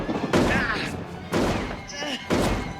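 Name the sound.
gunshots in Leprechaun film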